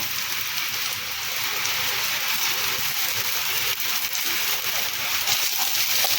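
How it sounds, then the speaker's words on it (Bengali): Chopped garlic and a little ginger sizzle and get stirred in a hot pan while cooking crispy chilli potato, making a steady, close, even hiss with no break. "এখন কুচিয়ে রাখা রসুন আর সামান্য একটুখানি আদা আদা কিন্তু একদমই অল্প এর মধ্যে দিয়ে দেবো হালকা করে একটুখানি নেড়ে নেব"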